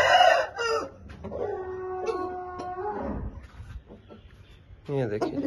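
Roosters and hens on a farm cluck and crow, with a drawn-out crow in the middle and scattered clucks, while someone talks nearby.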